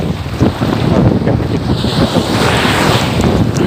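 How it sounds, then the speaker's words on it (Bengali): Strong wind roars and buffets the microphone continuously, loud and rough, with a wash of waves underneath on a beach in Thailand. "বাতাস আসতেছে প্রচুর"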